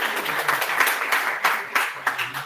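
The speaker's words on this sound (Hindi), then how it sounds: "ताली बजाओ अपने आप के लिए एक बार" An indoor audience at a 2022 launch event claps for themselves, a burst of dense applause with sharp individual claps in uneven pulses, loud and close, with a voice briefly under it.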